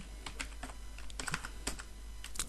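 Brisk typing on a computer keyboard: a quick series of light key clicks at an uneven rhythm over a low steady hum, close but quiet.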